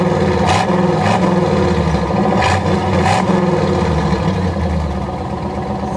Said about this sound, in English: so listen to it when it's revving up